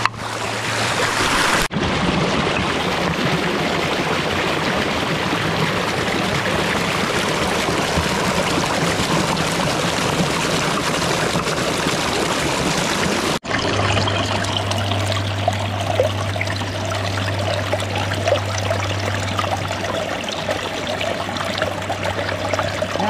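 A river current flows in a steady, continuous rush of water that stays loud and close throughout, with a low, even hum running beneath it in the later part.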